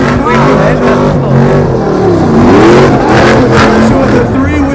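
A Stadium Super Truck on Toyota tires revs and spins at the SEMA show, its engine rising and falling in loud sweeping whines while an announcer talks excitedly over it.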